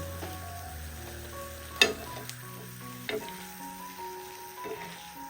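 Jalebi spirals bubbling and sizzling in hot oil, a steady soft frying crackle with a few sharp spatters and clinks, heard close with no talking.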